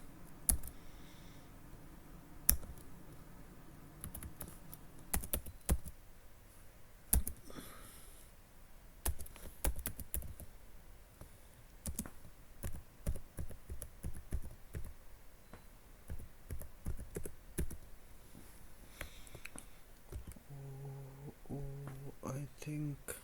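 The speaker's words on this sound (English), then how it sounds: "I think I'm typing too fast, so I need to slow down." Typing on a computer keyboard: irregular bursts of quiet, close key clicks and taps, with a few louder strikes, then a voice briefly talking near the end.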